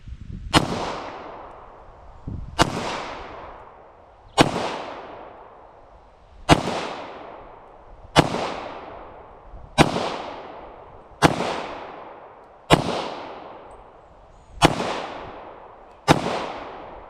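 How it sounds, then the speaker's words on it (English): Ten loud, sharp gunshots from a Glock 22 Gen 4 .40 caliber pistol, fired one at a time at a steady pace about every one and a half to two seconds, each crack trailing off in a short echo. "Glock 22 Generation 4 40 caliber."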